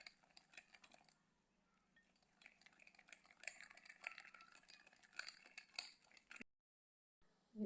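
Light metallic clinks and scrapes from a spoon stirring semolina batter with sugar in a bowl, in scattered bursts with short pauses, quiet and close, without talking.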